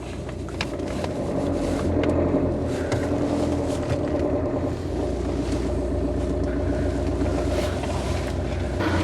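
Brand-new car moving forward slowly, a low steady engine hum with broadband road and wind rumble, no voices.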